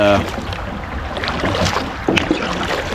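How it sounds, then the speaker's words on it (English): A kayak paddles along spring-fed Econfina Creek in the Florida Panhandle, giving a steady watery wash with wind noise, a brief voice at the start and a small splash near the end. "we're paddling back towards Pitt Springs"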